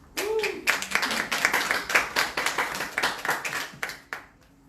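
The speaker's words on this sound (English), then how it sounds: "Again, give them a round of applause" A small audience at the London Crypto Conference claps in a loose, uneven burst, individual hand claps standing out sharply before the applause thins and stops, with a brief voice at the start.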